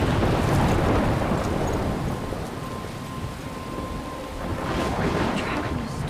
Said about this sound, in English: Trapped in a storm?